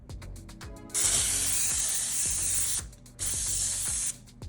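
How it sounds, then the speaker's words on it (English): Two long hissing bursts from a nearly empty can of cooking spray onto pizza crust, the first about two seconds and the second shorter after a brief pause, with faint mechanical clicking beneath. "I sprayed the crust with cooking spray"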